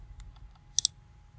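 A pair of quick, sharp computer mouse clicks close together, heard alone over a quiet low room hum, with a few faint taps just before.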